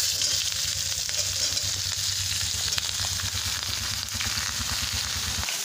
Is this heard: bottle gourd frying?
yes